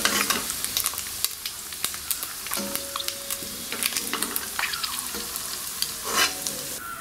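Raw prawns frying in hot oil in a pan for prawn biryani, a steady close sizzle with soft scraping and clinks of a stirring spoon throughout.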